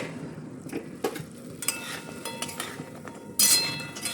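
Fried taal pitha are turned in thick sugar syrup in a pan over high heat, making soft sticky scraping and stirring sounds with a few sharp clinks of a utensil against metal.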